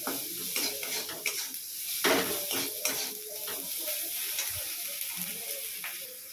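Spices (salt, turmeric, garam masala, Kashmiri chilli powder and chaat masala) sizzle as they are stir-fried in a pan. A spatula scrapes and clinks against the metal in irregular strokes, close and fairly loud.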